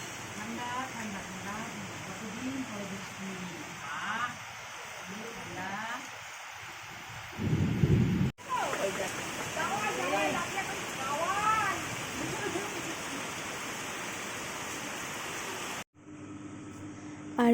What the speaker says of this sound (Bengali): আর এখন ঝমঝমিয়ে বৃষ্টি হচ্ছে, অনেকটাই জোরে বৃষ্টি পড়ছে,